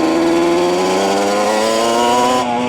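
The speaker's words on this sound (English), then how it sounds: "that's a lot of throttle input," A Banshee supermoto engine revs hard under heavy throttle, a loud, close, raspy two-stroke wail that climbs steadily in pitch and holds for a couple of seconds before easing off.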